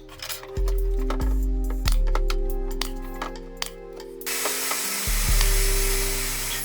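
A power saw whines steadily through wood bracing for a sturdy shop workbench, a loud, close, sustained cut with short pauses and a clatter of the workpiece between passes.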